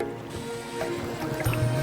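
Water flowing along an irrigation channel in the Konkan countryside, a steady close rushing and gurgling wash with a brief deeper swirl near the end, no talking.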